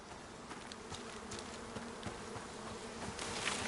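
Bees swarm around a tree in the survival video game Icarus, a steady, dense insect buzz hanging close throughout and swelling slightly louder near the end, with no talking.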